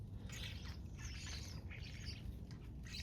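Several wild birds squawk and chirp in short, scattered bursts while feeding on apples, heard faintly over a low background rumble.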